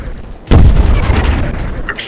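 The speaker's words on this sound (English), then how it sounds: "Explosions! I love explosions!" Explosions in the jet combat video game Air Jet Fighter Combat Europe, a sudden loud boom followed by a rumbling, crackling tail that fades over a second or two.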